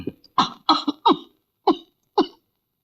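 An elderly mother coughs in several harsh, close bursts, a quick cluster of three followed by two more spaced apart, with silence between.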